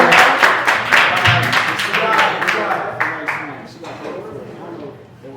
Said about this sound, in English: Let's get that round of applause up loud.